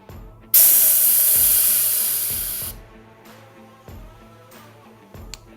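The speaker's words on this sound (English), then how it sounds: "I'm just gonna pull the pressure release valve a couple of times." A pressure release valve on a beer keg is pulled, venting gas in one loud sharp hiss lasting about two seconds. Softer clicks and brief handling sounds follow.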